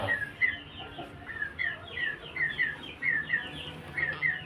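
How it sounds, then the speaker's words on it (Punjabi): A pure Punjabi rooster gives a run of short, repeated clucks at a steady pace, fairly faint and close with quiet background and no talking. "ਇਹ ਪਿਓਰ ਪੰਜਾਬੀ ਕੁੱਕੜ ਹੈ ਜੀ"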